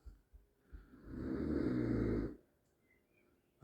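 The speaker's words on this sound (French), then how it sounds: "Le mec qui ronfle." A man snoring in a pilgrim refuge on the Way of Saint James, a single long rasping snore rising and falling, close and fairly loud in an otherwise quiet room.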